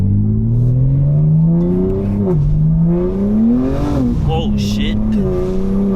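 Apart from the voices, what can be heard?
BMW M4 exhaust with max burbles tune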